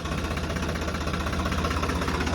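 A Blue Horse 63 tractor engine chugs at a steady idle close by, a low, even, throbbing rumble with no other sounds.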